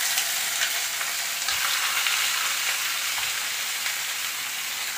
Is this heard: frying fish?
yes